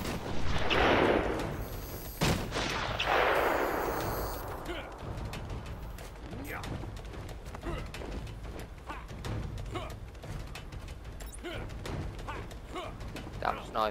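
Sniper rifle shots in Batman Arkham Asylum: two heavy, booming reports with long rumbling tails near the start, followed by a dense patter of sharp clicks and thuds under quiet game ambience.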